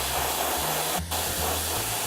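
Continuous close hiss of an airbrush spraying paint over a Halo Covenant Ghost miniature, with a low hum underneath and a brief break in the spray partway through.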